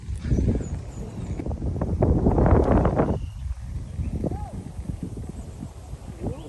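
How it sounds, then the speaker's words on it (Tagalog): Strong wind buffets the microphone in loud, rumbling gusts on a golf course, with a person speaking briefly in the middle. "Lakas ng hangin."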